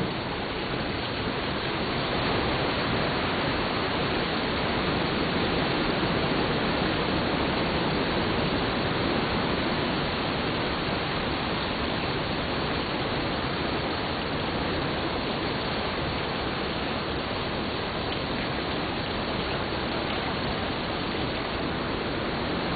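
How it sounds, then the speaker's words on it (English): A waterfall rushes during a big typhoon in the Philippines: a dense, steady roar of water and wind that stays loud and unbroken from start to finish, with no voices. "There's our waterfall."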